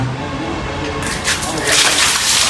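Rainwater sprays up during a football game played in the rain. The splashing swells louder partway through into a rushing gush, with faint voices in the background.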